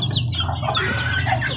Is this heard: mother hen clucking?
yes